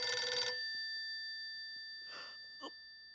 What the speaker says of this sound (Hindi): अरे बाप रे, सेठ जी का फोन।